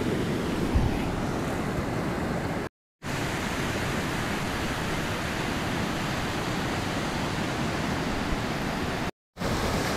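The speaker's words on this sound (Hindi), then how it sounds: "देखिए पूरा दरिया जो है वो इस साइड को आ रहा" Flooded river in a Lahaul village in the Himalayas, spreading across potato and pea fields, a steady broad roar of rushing water with wind buffeting the microphone, broken by two brief dropouts.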